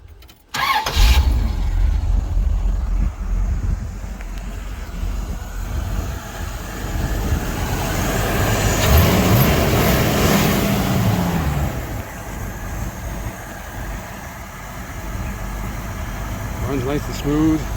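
A Pontiac Trans Am pro touring build with a Pypes crossflow exhaust and Flowkooler water pump starts up and settles into a steady, smooth low rumble at idle, close by, with talk over it.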